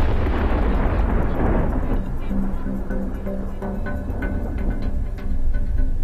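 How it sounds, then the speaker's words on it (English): A shaped copper charge explodes against a steel column. A loud, dense blast opens the clip, then a long rumbling roar trails off with scattered crackles and debris. "An explosion sends a stream of molten copper cutting through the steel."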